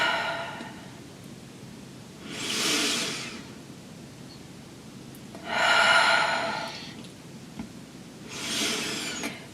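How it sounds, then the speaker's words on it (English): Three slow, deep breaths drawn in during a guided breathing exercise, each a soft airy rush lasting about a second, spaced a few seconds apart against a quiet background, with no talking. "You should be able to take deeper and deeper breaths in."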